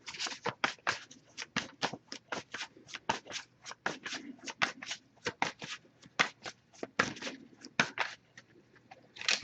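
A tarot card deck is shuffled steadily up close, a quick run of crisp riffling card slaps repeating in an even rhythm for the whole stretch, with no talking over it.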